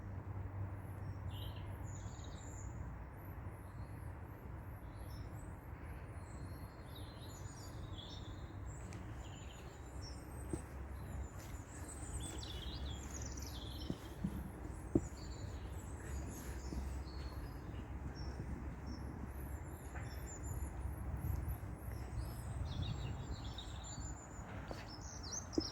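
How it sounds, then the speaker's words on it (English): Birds chirp and twitter softly throughout a spring park, many small overlapping calls above a low steady hum of distant traffic or background rumble. "it's worth stopping just to listen to the birds that are enjoying the day."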